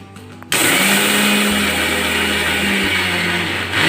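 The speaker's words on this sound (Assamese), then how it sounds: "এতিয়া সৰিয়হখিনি মিক্সিত পিচি লওঁ মাছৰ জোলত দিবৰ কাৰণে।" An electric mixer grinder grinding mustard seeds for a fish curry starts up abruptly after a brief quiet moment, then runs with a loud, steady motor whine and a grinding rattle until the end.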